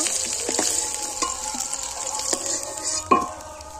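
Pond-caught snakehead fish frying in oil, a continuous close sizzle with a few sharp clinks and scrapes of a utensil against the pan.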